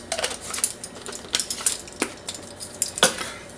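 A utensil stirs pickling brine of salt, pickling spice, red pepper and black pepper in a pot, giving close, uneven metallic clinks and scrapes against the pan with no talking.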